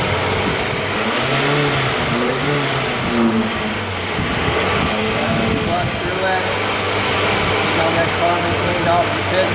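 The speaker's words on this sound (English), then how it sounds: "I got to rev it up." Engine of a 2003 Toyota Camry LE revved during a fuel induction service, a mid-pitched hum rising and falling in a few revs over a steady idle, with a person talking over it.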